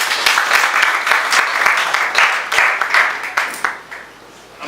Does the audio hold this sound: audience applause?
yes